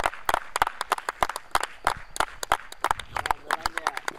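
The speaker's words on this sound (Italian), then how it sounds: "Applauso." Scattered, uneven clapping from a small group at a youth football season-end gathering, honoring the team's top scorer; sparse, irregular claps with gaps between them.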